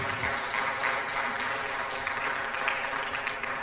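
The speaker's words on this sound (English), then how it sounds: "if you just give her a nice little applause" Live audience applauds a speaker's wife at a talk, a sustained wash of clapping from many hands filling the room evenly for several seconds, with no speech over it.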